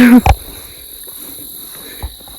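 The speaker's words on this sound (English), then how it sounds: "You could probably hear the crickets and everything." Crickets chirp in a steady high-pitched drone through the clip beside a mowed trail near the Grand River, with a couple of brief low knocks near the start.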